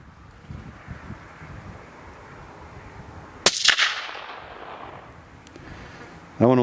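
A single suppressed gunshot fired outdoors, a sharp crack with a short trailing rumble amid wind noise on the microphone, then another brief bang right at the end.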